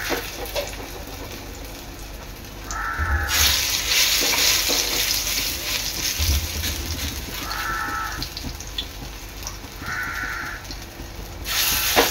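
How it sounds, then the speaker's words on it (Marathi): Fish fritters made from small shrimp sizzle and crackle steadily in hot oil, close by, with occasional scraping and stirring sounds over the continuous frying noise. "अशा वड्या टाकून घ्यायच्या तेलात"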